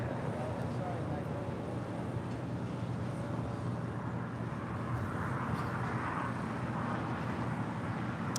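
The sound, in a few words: United Airlines Boeing 787-10 Dreamliner departing LAX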